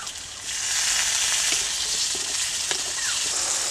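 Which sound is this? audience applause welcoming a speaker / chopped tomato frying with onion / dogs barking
chopped tomato frying with onion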